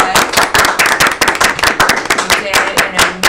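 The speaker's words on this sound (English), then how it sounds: "Let's give them a round of applause." Audience applause breaking out, sharp close-up claps in a busy irregular rhythm, loud and sustained throughout.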